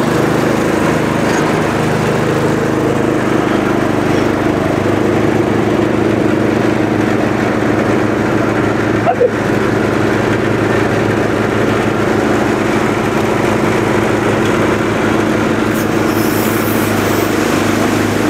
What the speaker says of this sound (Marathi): प्रत्यक्षात भाताची मळणी चालू झालेली आहे।